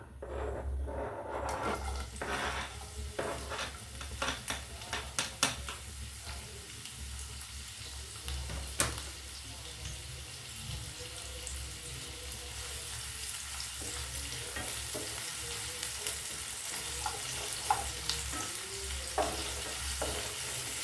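Onions frying in oil give a continuous close sizzle, with occasional spatter pops and light scraping of a spoon, no talking.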